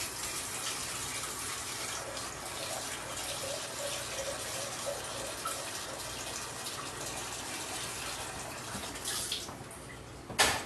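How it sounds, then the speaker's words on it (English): Tap water runs steadily into a pot for about ten seconds, a constant close hiss and gush that cuts off near the end with a small clunk. "I'm just going to take a pot, I'm going to fill it about half full"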